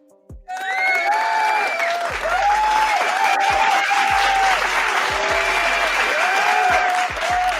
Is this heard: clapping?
yes